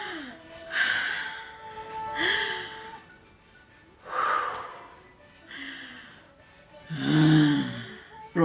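Someone takes slow, deliberate deep breaths, with several long inhales and exhales spaced a couple of seconds apart, loud and close with faint pauses in between.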